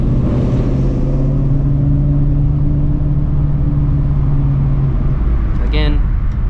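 A car's engine hums loudly and steadily from inside the cabin during a U-turn in busy traffic while learning manual transmission, with a faint rev rise; a brief squeaky sound appears near the end.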